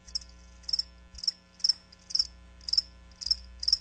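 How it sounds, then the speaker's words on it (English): Crickets chirp in a steady rhythm, short repeated trills about every half second, with a low hum running underneath. "That's right, crickets."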